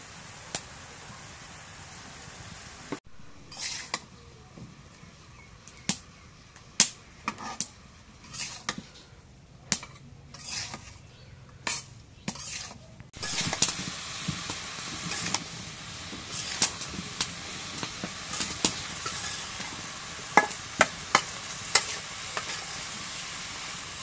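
Cumin paste and garlic paste sizzle in a pan on a clay stove, a soft frying hiss broken by sharp, irregular scrapes and taps from stirring, growing denser partway through, with no talking.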